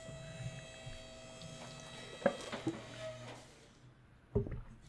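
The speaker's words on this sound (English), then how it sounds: "Me taking a drink of McDonald's coffee." A few short slurping sips of McDonald's coffee sit over a steady low electrical hum, with a quieter gulp near the end.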